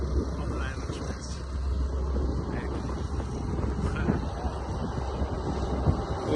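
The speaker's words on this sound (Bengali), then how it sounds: "train is going on the line express" An express train runs over the Nine Arches Bridge in Ella, Sri Lanka, a low steady rumble heard from a distance through wind buffeting the microphone, with people talking over it.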